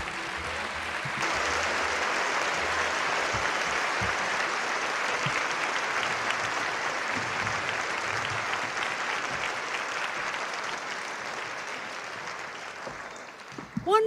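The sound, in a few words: audience applause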